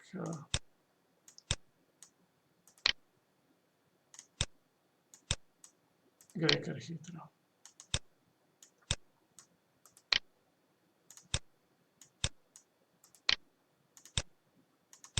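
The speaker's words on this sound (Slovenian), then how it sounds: "Tega klikanja je kar precej" Mouse clicks while building a group in circuit design software, sharp isolated clicks about one per second, close and clear, with a voice talking briefly partway through.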